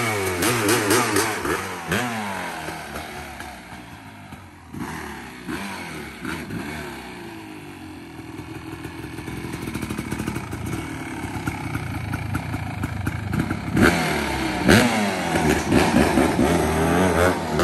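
A frame-off restored Kawasaki KX 500 motorcycle runs with a loud, raspy two-stroke engine note that rises and falls through repeated revs, dips in the middle, then climbs again to a harsh peak, with faint voices in the background.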